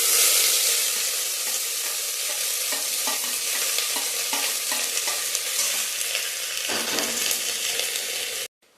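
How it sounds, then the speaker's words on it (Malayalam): Onion, tomato, green chilli and crushed ginger and garlic sizzle steadily in hot coconut oil for an egg kurma, with a spoon stirring and scraping the pan in repeated strokes throughout, then cutting off abruptly. "എന്നിട്ട് നമുക്ക് ഈ ഉള്ളി, തക്കാളി, പച്ചമുളക്, ഇഞ്ചി, വെളുത്തുള്ളി ചതച്ചതൊക്കെ ഒന്ന് വഴറ്റിയെടുക്കാം കേട്ടോ"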